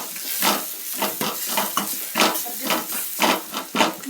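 Mint paste and green peas being stirred and fried in a pan for pudina rice, with repeated scraping, clinking strokes of a spoon against the pan over a soft sizzle, close and fairly loud, no talking.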